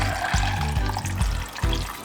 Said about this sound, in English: So we're going to put some water inside of it.